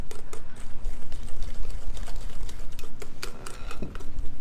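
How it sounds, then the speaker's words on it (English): A whisk beating sweet potato pie filling in a bowl, rapid close clicking and tapping strokes in a quick continuous rhythm, fairly loud and with no talking. "But I'm going to get my whisk to this."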